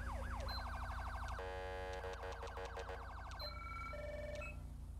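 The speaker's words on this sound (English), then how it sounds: "I installed this siren a while back" A police car siren in GTA V with the LSPDFR mod, cycling through a fast wailing sweep, then a rapid yelp pattern, then a two-tone warble, loud and continuous with no talking over it.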